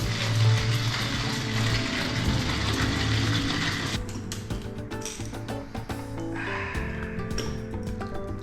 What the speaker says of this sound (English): I love grinding my coffee.